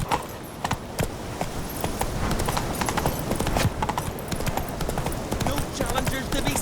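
Galloping horse in The Witcher 3, rapid hoofbeats running continuously under a busy game soundscape, fairly loud and close.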